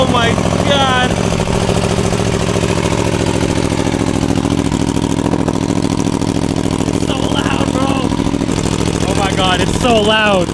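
An Aprilia Tuono V4 Factory motorcycle engine runs loud and close, a steady rumbling idle with a few short revs, while excited voices talk over it.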